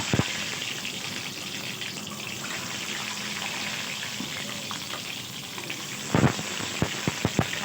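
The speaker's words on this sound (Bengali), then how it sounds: "ডিম দিয়ে দেওয়া হলো একে একে প্রত্যেকটা সবগুলো ডিম আমরা দিয়ে দেব এবং ভালো করে ভেজে নেব" Eggs sizzle steadily in hot oil in a pan on a gas stove, a continuous close hiss with a few sharp clicks and taps near the end.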